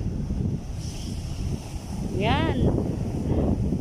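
Sea waves roll and crash on a beach in a continuous low roar with wind buffeting the microphone, while a person speaks briefly and a whistle-like tone sweeps through.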